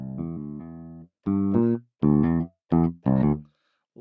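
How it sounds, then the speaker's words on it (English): Toontrack EZbass virtual bass instrument playing a short phrase: one sustained note followed by four punchy, evenly spaced plucked notes with clean gaps between them, loud and close with no talking. "Bass sound, pretty cool."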